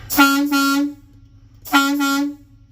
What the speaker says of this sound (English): We got air horn again.